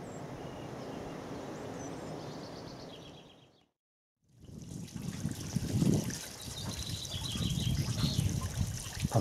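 A natural spring at a nature reserve on a Dorset hillside trickles and dribbles steadily, close by, with a brief fade to silence midway before the running water returns slightly louder, faint birdsong in the background.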